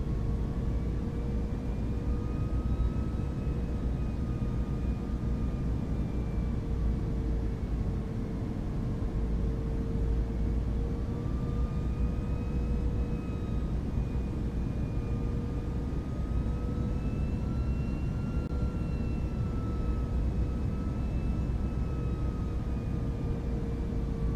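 A Fenix A320 airliner in Microsoft Flight Simulator 2024, slats extended, gives a steady, even roar of engines and rushing air with faint whining tones drifting above it, continuous and unbroken, with no talking.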